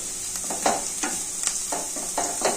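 Curry leaves and carrots frying in hot oil, a steady bright sizzle with intermittent stirring scrapes, close and alone.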